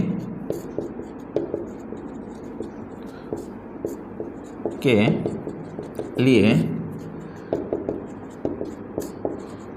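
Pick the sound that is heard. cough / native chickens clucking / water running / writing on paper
writing on paper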